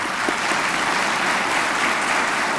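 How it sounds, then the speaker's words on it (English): Dense, sustained applause from an audience at an academic excellence awards ceremony, an even wash of many hands clapping at once with no breaks, fairly loud and steady throughout. "Ladies and gentlemen, your applause is now in order."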